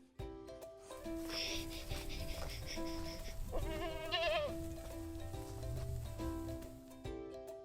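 Goats on a modern Australian goat farm bleat a few times, moderately close, with background music playing steadily throughout.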